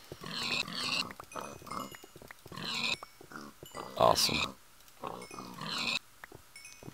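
Minecraft pigs in the video game give short grunts and oinks, with squeals and hit sounds in quick bursts, while someone talks over them in short phrases.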